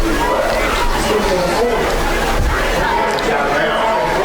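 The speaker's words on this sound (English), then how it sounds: "Good crowd on here at South Davidson this afternoon." Crowd at a high school football game at South Davidson, a dense, loud wash of overlapping chatter and voices from the stands, continuous and unbroken.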